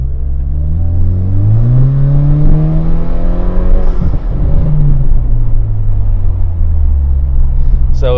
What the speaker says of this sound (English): that's a little demo of the exhaust system